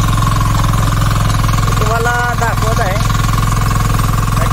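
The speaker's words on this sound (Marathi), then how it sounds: "किसान क्राफ्टचं हे ट्रॅक्टर आपली शेतीसाठी खूप शेतीची बैलाची मशागतीची वगैरे इतर सर्व जी कामं आहेत" A Kisan Kranti tractor's engine runs while ploughing and earthing up a sugarcane field, giving a loud, steady, throbbing drone with a rhythmic knock. Someone talks over it throughout.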